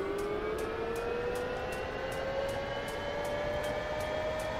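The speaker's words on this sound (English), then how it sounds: "depress and hold the engine start switch" A UH-1H Huey helicopter engine starts up in the DCS flight simulator, a steady turbine whine rising slowly in pitch over a constant roar, with a faint regular ticking behind it and no talking.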